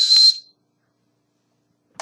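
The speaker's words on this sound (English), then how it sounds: "but it's a whistle." A Gokaiger Dragon Dagger toy whistle blown once, a short shrill high-pitched toot lasting about half a second, followed by silence and a tiny click at the end.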